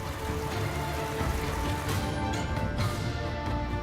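Heavy monsoon rain in India pours steadily in a dense, even hiss that drums continuously on surfaces, with no voices.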